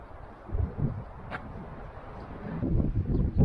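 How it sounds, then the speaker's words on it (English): Gusty wind at Goldwater Lake buffets the microphone in low rumbling bursts, rising and falling, growing stronger toward the end. "It's really windy."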